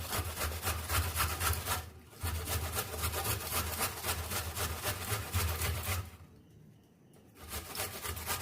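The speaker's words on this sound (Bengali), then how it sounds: "এই আদাটা গ্রেট করে নেবো" Fresh ginger is grated for homemade tomato sauce, with a fast, rhythmic scraping rasp of repeated strokes that stops briefly twice and then resumes, close and fairly loud.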